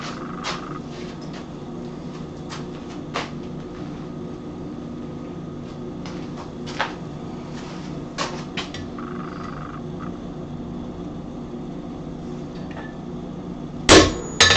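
A hammer striking a small handled punch makes scattered sharp, light metallic taps over a low steady hum, ending with a couple of louder, close strikes.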